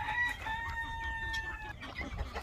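Broody hens on a farm clucking and calling, with sustained harmonic vocalizations and a rooster-like crow carrying over continuous low farmyard rumble, close and fairly loud throughout.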